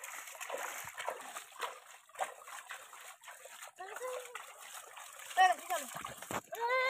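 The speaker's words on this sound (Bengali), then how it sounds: "ছিটে ছিটে জল দে" Water splashed in repeated scoops over freshly caught fish to wash them outdoors in a village, uneven splashes and trickles under constant voices calling out.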